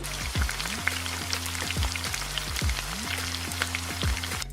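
Cajun chicken sizzles steadily in a pan, a dense crackling hiss that runs throughout over a low, repeating tonal hum.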